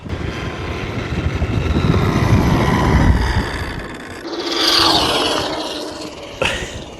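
Fast RC car on a 4S battery at full throttle, a high-pitched electric whine that swells and fades as it passes by, outdoors in strong wind that adds a broad rumble.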